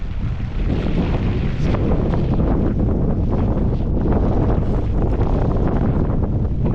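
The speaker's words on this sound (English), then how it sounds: "Wind slowing it down." Strong wind roars steadily across the microphone while riding a Ground Industries TKP mountainboard downhill, a loud, constant buffeting rush that fills the whole stretch with no voices.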